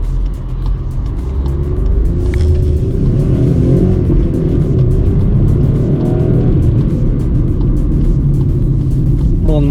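A VW Polo 1.0 Track petrol engine runs steadily with a loud, continuous low rumble and a slight rise in revs, close and without talk.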